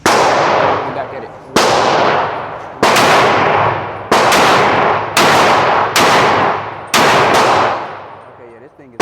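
Close, loud single shots from a Glock 31 Gen4 pistol ring out at an indoor shooting range, about seven sharp reports spaced one to two seconds apart, each with a decaying echo tail.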